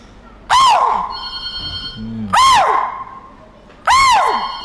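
A human voice imitates a chital deer's call with three loud, shrill, sharply falling cries spaced about two seconds apart, heard close with a faint murmur between them.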